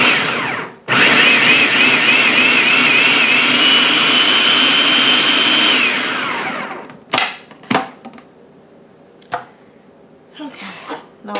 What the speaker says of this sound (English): let's see if we can get the food processor to work